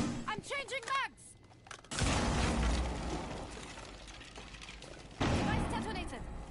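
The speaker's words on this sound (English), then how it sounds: "Changing mags!" Mechanical reload clicks in a video game as a weapon magazine is swapped, set between sharp bursts of gunfire or blasts, with a voice calling out at the start.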